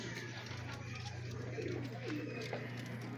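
Racing pigeons coo softly during a summer race arrival wait, a low steady murmur of pigeon calls with faint bird chirps over a constant background hum.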